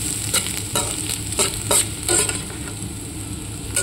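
Bamboo shoots and potatoes fry dry in a pan with little spice, a soft continuous sizzle broken by several sharp scraping strokes of a spatula stirring them, close and alone without speech.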